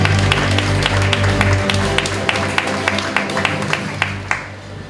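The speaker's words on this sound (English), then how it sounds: "give a round of applause to the contestants that have signed up for this year" A crowd at the Clarendon festival queen sashing ceremony in Jamaica applauds the contestants with scattered, moderately loud clapping over a low humming background, and the claps thin out toward the end.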